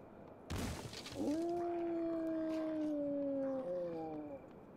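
A wolf howls in the survival video game HumanitZ, a long, steady wavering howl that rises after a sharp crash, holds, then breaks into shorter falling tones, fairly clear over a low game-world background.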